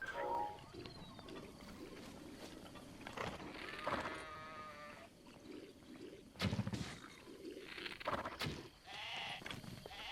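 A sheep in the video game Breath of the Wild bleats several times in short, wavering calls, moderately close, with quiet ambient game sounds between them.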